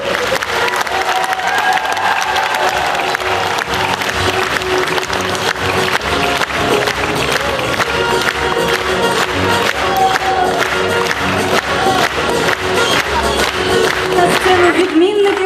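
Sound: applause

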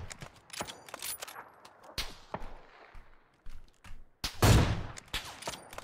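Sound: gunfire in a video game

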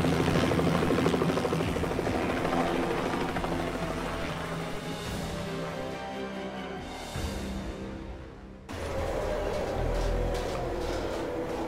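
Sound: helicopter escape in video game Hitman

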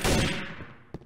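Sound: gunshots in a video game

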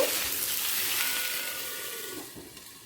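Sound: potatoes with tomato and green chili cooking on low flame

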